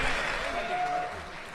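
Audience applause after a debate on foreign influence, a short burst of steady clapping with a voice talking over it.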